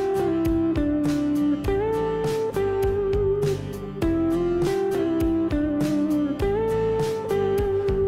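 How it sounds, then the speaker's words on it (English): A distorted electric guitar plays a flowing single-note line, bending up into the notes, over a steady backing track with drums. The playing is loud and continuous. "You can bend into each note, which looks and sounds like this."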